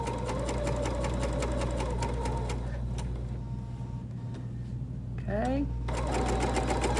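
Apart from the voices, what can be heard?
sewing machine stitching a folding wallet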